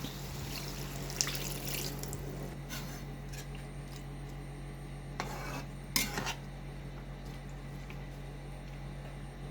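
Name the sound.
water added to chicken curry in pan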